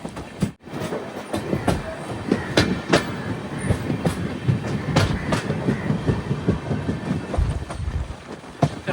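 Aboard the Ernakulam to Velankanni weekly express sleeper train nearing Nagapattinam, wheels beat out a steady clickety-clack over a loud continuous rumble, with sharp rail knocks throughout and no voices.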